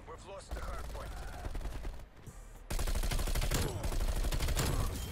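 Call of Duty gunfire from a Bullfrog SMG: dense, rapid automatic bursts with a brief lull in the middle, then sustained, loud fire, with a player talking intermittently underneath.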